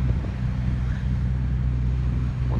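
Low, steady engine rumble of a truck on a road beside a fence, loud and continuous with a wind-buffeted broadband wash over it, no voices.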